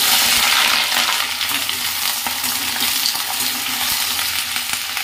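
Flat beans fry with mustard and poppy seed in hot oil in a wok, a loud, dense, continuous sizzle heard up close with faint stirring and no voices.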